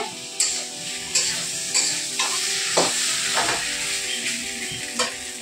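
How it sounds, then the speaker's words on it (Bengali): Potatoes and spices sizzle as they are stir-fried in a pan, with a steady frying hiss broken by several scraping strokes of a spatula, close and clear. "এখন দেখো আলু আর মশলা দিয়ে কষানো হচ্ছে"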